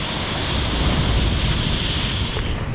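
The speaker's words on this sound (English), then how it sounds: "there's some inside waves coming through" Surf rolling in at high tide against rocks, a steady loud broadband wash with continuous roar and hiss, no distinct breaks, close to the microphone with some wind.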